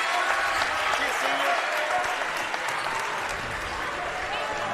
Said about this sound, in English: Gets a good hand from the crowd.